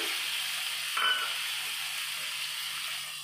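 Ginger, garlic and chopped green chili sizzle in hot oil in a pan, with a steady close hiss that swells briefly as the ingredients drop in, then settles into a soft, even fry.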